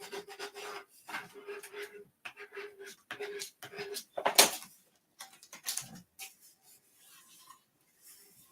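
Adhesive vinyl being burnished down by hand, giving short scratchy rubbing and rasping strokes in bursts, close and fairly quiet, with a sharper peel or rip near the middle and softer rubs trailing off.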